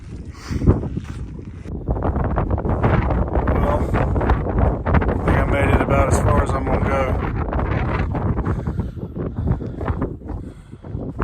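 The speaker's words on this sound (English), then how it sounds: "It's getting real windy." Strong wind on a mountain near the summit roars and buffets the microphone continuously, gusting loud and close for the whole stretch with brief dips.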